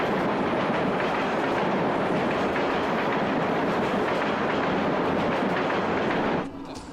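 A train rumbles steadily through a railway station, a loud continuous roar with faint wheel clatter that drops off sharply near the end.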